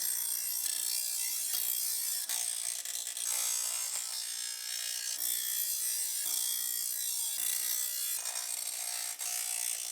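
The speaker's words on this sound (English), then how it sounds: "we'll clean out the burrs from where we cut it off" Cut metal pieces of a PJ equipment trailer being deburred, a continuous, loud, bright grinding and rasping that runs steadily for the whole stretch with brief dips, close up and with no talking.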